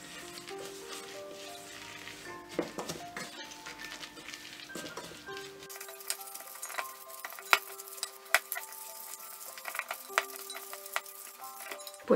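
Coconut batter with chia seeds, milk and carob flour being mixed in a bowl, with irregular scraping and clicking strokes of a utensil that grow sharper and more frequent toward the end, no voices.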